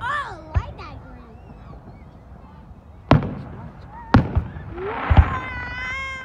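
Fireworks at a Fourth of July show in Fernley, Nevada, burst in several sharp booms, some near and loud and others softer, with crackling trails and whistles between them while people talk throughout.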